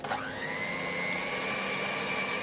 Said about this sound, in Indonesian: ini akan aku mixer ya, dan aku mixer sampai halus saja